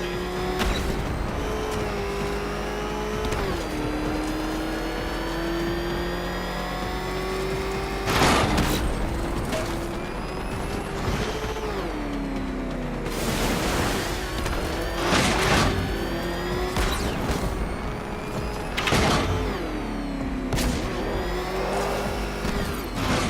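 Car engine racing in the Batman Arkham Knight video game, a loud, steady high-revving motor that holds on, rising and dipping in pitch, with sharp bursts of impacts and skids breaking through now and then.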